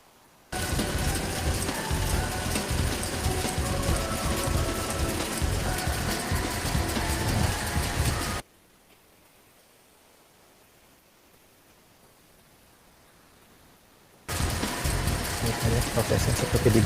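Machinery in a Japanese marble factory cutting pieces of molten glass makes a loud, steady mechanical roar for about eight seconds, drops to near silence, then starts up again just as loud.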